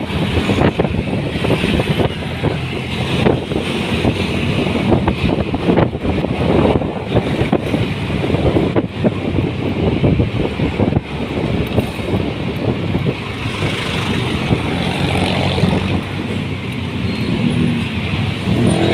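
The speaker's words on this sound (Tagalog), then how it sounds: "Medyo traffic ngayon ng konti ngayon," Continuous morning road traffic on a busy street, a dense steady rumble of cars passing with wind buffeting the microphone, loud and close with no clear breaks.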